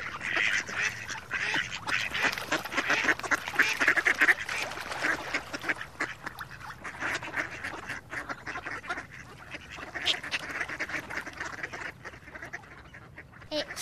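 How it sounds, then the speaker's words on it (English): Ducks on a park boating lake quack noisily and continuously in a chattering flock, with outdoor ambience around them. "It's some ducks."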